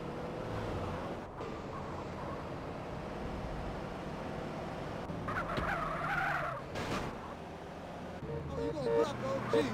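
A car drives and its tires skid and squeal in the video game GTA San Andreas, with engine noise running under game dialogue and a sharper screech near the middle.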